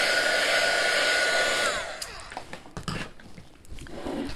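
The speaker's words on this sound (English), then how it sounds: "I'm just speeding up the process by using my dryer." A hair dryer blows with a steady, loud whoosh, then shuts off and winds down, leaving quieter rustling and handling noises.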